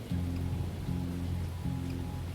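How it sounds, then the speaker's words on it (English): Steady rain hisses as a constant wash of noise, with a low repeating tonal drone pulsing underneath in a regular pattern, and no talking. "And it's raining."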